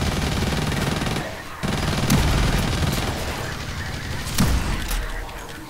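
Rapid, loud gunfire in the shooter game Blacklight Retribution, dense bursts of shots and explosions with a few sharper reports standing out, continuous and close throughout.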